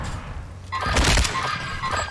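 A mortar strike lands in the Warzone video game, a single heavy thud with a crashing, shattering burst in the middle of a short, muffled rumble, alone without talk.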